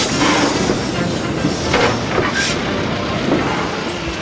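A vintage train runs at Greenfield Village, a loud continuous rumble of rolling wheels with faint rhythmic clicking and brief higher squeals, close and alone.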